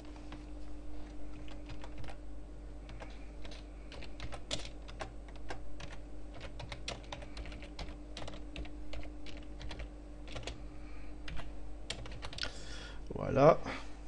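Keyboard typing on a computer while text is entered in GIMP 2.8, a steady run of light, irregular key clicks with short pauses throughout, ending in a brief louder clatter near the end, with no voice.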